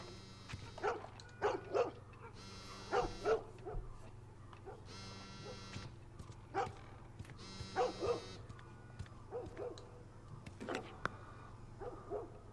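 A dog in The Last of Us barks in short separate yips and bow-wows, spaced irregularly over a low steady hum, fairly quiet and moderately close.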